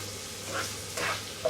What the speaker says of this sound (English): put my onions in, a bit of garlic, and then I put some carrots in there